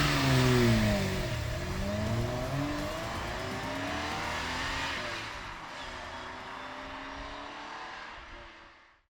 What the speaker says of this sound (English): make it sound glorious like an F1 car, such as this Klein Inconel exhaust